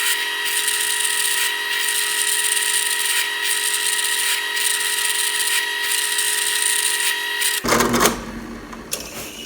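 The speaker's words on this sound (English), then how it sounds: "So what I've got to do now is drill the holes using the base plate as a guide" A steady high-pitched whirring drill with a brad point bit runs continuously through a guitar body, then stops abruptly near the end, followed by brief clattering handling noise.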